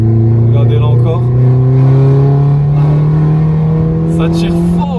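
A Peugeot 208 GTI engine roars loudly as it accelerates, its pitch climbing steadily for several seconds, with a voice faintly audible underneath.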